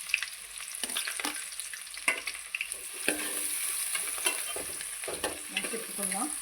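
Chopped onions tossed into very hot oil for a crab curry hiss and crackle continuously up close, with repeated clattering stirs of a spoon against the pan.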